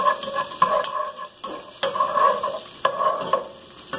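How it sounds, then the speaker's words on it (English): Garlic sizzling in a little oil while being stir fried for Lao curry chicken wings, a steady crackling hiss broken by repeated scraping stirs of the utensil against the pan at an uneven rhythm. "I'm gonna stir fry garlic. You hear the sizzle?"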